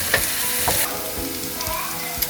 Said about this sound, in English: So we're going to cook our onions till they turn golden brown.